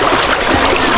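Strong creek current after a typhoon rushes loudly and continuously close by, a dense, unbroken wash of flowing water with no voices.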